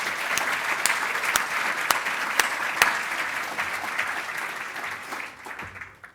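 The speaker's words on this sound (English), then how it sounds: "Let's give them a round of applause." An audience at a city State of the City address claps in sustained applause, loud at first and tapering off toward the end.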